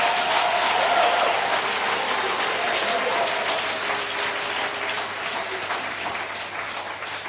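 A church congregation at an Independence Day night vigil applauds, producing a dense, sustained wash of clapping that stays loud throughout and fades slightly toward the end.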